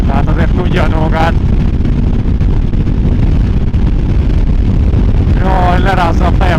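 Heavy wind buffets the microphone while riding a motorcycle, a loud, constant low roar throughout, with someone shouting briefly at the start and again near the end.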